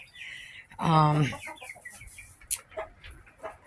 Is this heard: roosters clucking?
yes